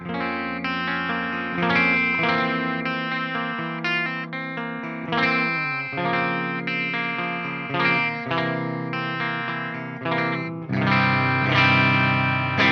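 Electric guitar played through a clean channel on a Jackson Soloist using its bridge pickup, strummed chords ringing with a chorus-like shimmer, steady and fairly loud, no talking.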